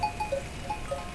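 Goats on a mountain pasture, with short bell-like clinks that repeat several times over a soft, steady outdoor background, and no one speaking.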